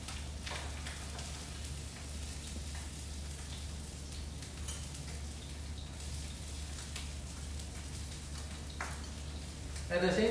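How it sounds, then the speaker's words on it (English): Salmon pan frying skin-side down over medium heat until the skin crisps, a soft continuous sizzle and crackle under a low hum in a cooking demonstration setting. "So you pan fry until almost the skin is crispy"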